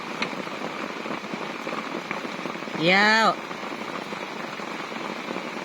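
Steady rain falls during a big storm, a continuous hiss throughout, with a short spoken word rising briefly over it near the middle.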